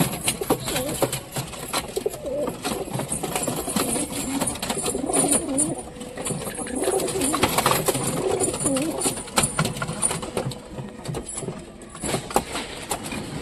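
Pigeons coo and shuffle about at close range while feeding around their nests, a steady murmur of soft calls and fluttering movement running throughout with no talk over it.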